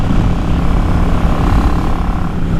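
A Yamaha XVS650 motorcycle engine running with a Mikuni 22.5 pilot jet fitted, a loud, continuous low rumbling drone held steady throughout without pauses.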